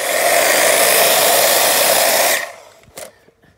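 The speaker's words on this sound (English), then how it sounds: "I just wanted to show you this wonderful hedge trimmer that my friend gave me" A powerful electric hedge trimmer cuts back a garden hedge with a loud, steady, hissing buzz for a little over two seconds, then cuts off, leaving brief rustling and clatter.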